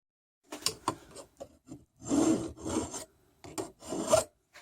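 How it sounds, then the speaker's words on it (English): A metal file rasps a burr off the edge of a drilled hole during a stove pot holder build, in several short, uneven back-and-forth strokes heard up close. "I know somebody's going to wonder why I'm filing that burr off."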